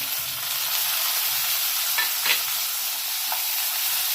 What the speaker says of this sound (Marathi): टोमॅटोलाही चांगलं भाजून घ्यायचं